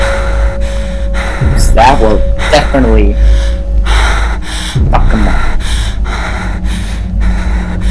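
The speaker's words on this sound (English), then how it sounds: "Just wait for the breathing to die down." Heavy, ragged gasps and snorting breaths inside the Slender horror video game, loud and close, with a person talking and exclaiming over them.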